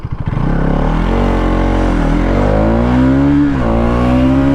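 A Bajaj NS 200 BS-6 motorcycle engine runs loud and close, its pitch falling and rising as the bike slows from about 60 km/h under braking, then steadies. Nobody speaks.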